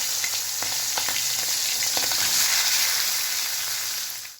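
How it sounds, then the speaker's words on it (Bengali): Prawns sizzle gently in hot mustard oil for Bengali chingri bhapa, a steady close frying hiss with a few faint spatula scrapes, fading out at the end. "বাড়িতে সর্ষের তেল দিয়ে নিয়েছি এবার আমি মাছগুলোকে হালকা ভেজে নেব"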